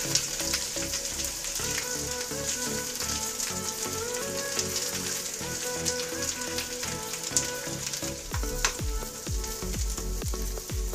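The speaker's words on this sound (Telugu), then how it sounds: "మనం ముందుగా మిక్స్ చేసుకున్న పచ్చడి వేసుకుని మీడియం ఫ్లేమ్లో రెండు మూడు నిమిషాల పాటు వేయించుకోవాలి" Mango cabbage chutney frying in a pan on medium flame gives a steady, close sizzle with constant crackling and popping throughout.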